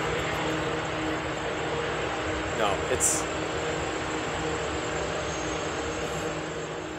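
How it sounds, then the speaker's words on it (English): Industrial data center buildings give off a constant droning hum, a dense broadband roar that stays steady and loud throughout, with a brief voice near the middle. "A constant droning, like a jet revving up for takeoff but never leaving the runway"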